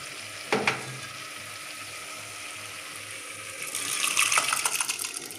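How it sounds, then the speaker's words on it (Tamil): Chili powder and sambar powder sauté in a pan for toor dal sambar, a faint sizzle under a soft clink near the start, with the frying growing brighter and crackly toward the end. "மிளகாய்த்தூள், சாம்பார் தூள் சேர்த்து நன்றாக வதக்கவும்"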